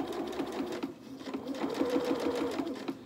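A sewing machine runs steadily along a seam of a T-shirt dress, its rapid needle chatter continuing at a fairly even pace, close and clear with no talking.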